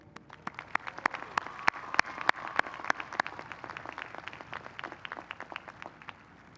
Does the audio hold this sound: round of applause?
yes